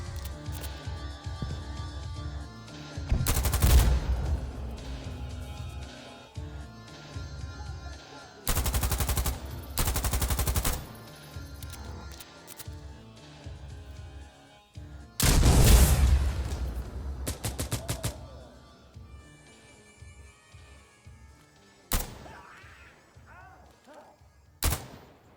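Heavy battle-rifle shots from G3A3 and FAL rifles in the shooter Insurgency Sandstorm ring out in several loud bursts separated by quieter stretches of game ambience, with a sharp single crack near the end.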